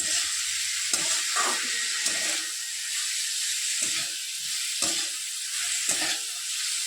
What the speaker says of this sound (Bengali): আবারও ভালো করে নাড়াচাড়া করে